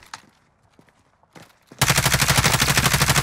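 Rapid automatic gunfire in Call of Duty Warzone bursts in loud and close after a quiet stretch of faint footsteps and thuds, then keeps going as a fast, even stream of shots to the end.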